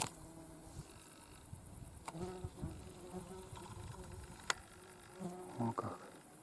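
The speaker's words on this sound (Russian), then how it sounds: "Кругом кузнечики." Grasshoppers chirp in a sunny field on a hot day, making a faint, continuous buzzing drone with small crackles and ticks mixed in, and no one talking.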